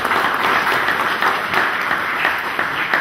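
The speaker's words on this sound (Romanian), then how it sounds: "Să-i aplaudăm, să-i felicităm încă o dată." An audience at a county council meeting in Bacău applauds a student, a sustained, fairly loud patter of many hands clapping together throughout, with no break.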